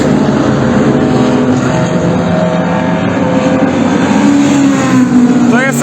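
A race car runs on the Mettet circuit in Belgium, a continuous loud engine drone heard from the trackside with a rising pass near the end, while voices talk faintly underneath.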